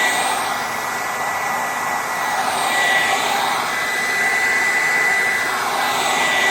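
Electric heat gun on its middle setting blowing hot air onto a metal tube to warm it, a steady loud whooshing hiss of the fan running continuously and close.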